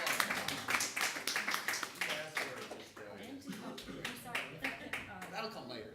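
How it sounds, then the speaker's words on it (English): Audience applause for a panel moderator at a conference, a scatter of fairly close individual claps that thin out midway while voices talk over them. "Let's give Monsi a round of applause."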